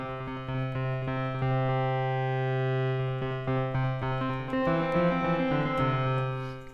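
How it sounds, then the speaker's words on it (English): A sustained, buzzy synth tone from the NLog PRO synth app on an iPad runs through a tempo-synced delay. The notes shift partway through as echoes trail under the steady, moderately loud drone, with no voices. "Right, so that's our bit of delay."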